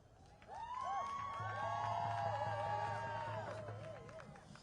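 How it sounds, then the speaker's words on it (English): A crowd of protesters outside a national convention cheers and whoops in a swelling roar that peaks mid-clip, then eases off, with overlapping voices. "What a crowd!"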